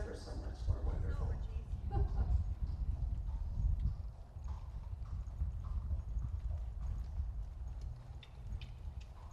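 Horse trotting in a riding arena: a steady, fairly faint two-beat clip-clop of hooves runs throughout, with a person talking over it.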